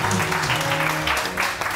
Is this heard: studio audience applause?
yes